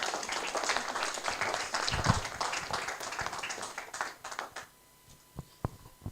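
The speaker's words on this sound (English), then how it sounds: "Another round of applause for Professor Campbell, please." Audience at a medical education conference in Lagos clapping, a dense round of applause that thins out toward the end into a few scattered claps.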